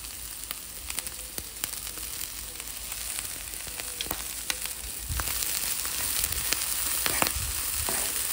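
Corn kernels sizzling in a hot pan with salt and chili powder, steady frying hiss broken by scattered scrapes and clacks of a spatula stirring, close and fairly quiet.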